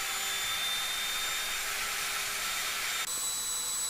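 A router cuts grooves into a piece of wood with a loud, steady, high-pitched whirring roar that holds without a break at close range.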